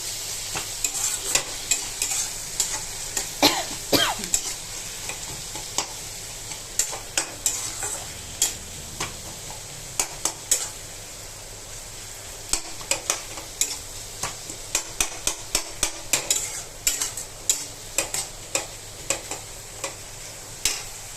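Sliced onions with salt and turmeric frying in a pan with a steady sizzle, while a spatula stirs them in quick bursts of clicks and scrapes that come and go throughout. No one speaks.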